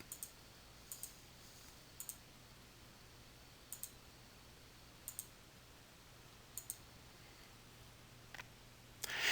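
Mouse clicks while setting chart formatting in Crystal Reports 2013, sparse light clicks arriving singly and in quick pairs every second or so over quiet room hiss, with a louder burst at the very end.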